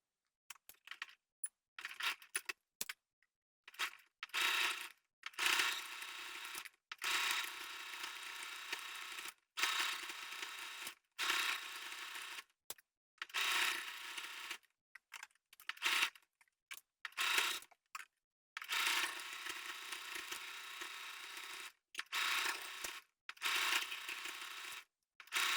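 A sewing machine stitching an outer seam in repeated short bursts of quiet mechanical whirring and clatter, each run separated by brief pauses.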